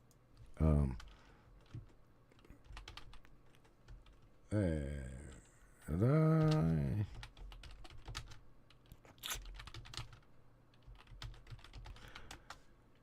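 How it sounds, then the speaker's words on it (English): Soft, scattered clicks of typing on a computer keyboard, with a few short bursts of voice or humming breaking in between. "Getting quiet here because I'm typing."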